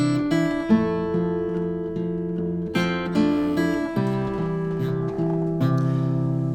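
Fingerpicked guitar plays a variation of a tune in an alternating-bass style, a steady thumbed bass under bright melody notes, close and clear with no voice over it.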